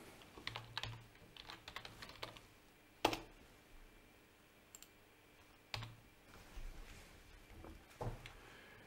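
Quiet computer keyboard typing in a software editor: scattered bursts of soft key clicks with a few sharper isolated taps, close up and low in level, with no one talking.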